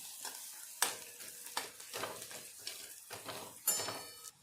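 Asafoetida and ginger-garlic paste fry in hot oil for a spinach and pea dish, a steady sizzle broken by several sharp scraping stirs of a spoon against the pan, close and alone without talk.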